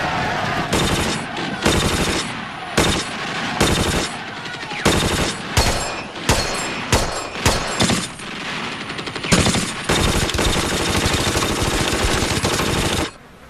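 Bursts of machine gun fire in World War II combat footage, loud and close, with long rattling volleys broken by short pauses and a sustained stretch of firing near the end.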